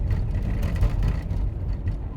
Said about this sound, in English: Driving my noisy diesel car.